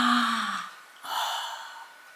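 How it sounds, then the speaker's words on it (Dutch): A person yawns close by: a long drawn-out voiced breath that slides down and fades, then a short pause and a second breathy exhale that tails off quietly. "Gaapje doen, hè?"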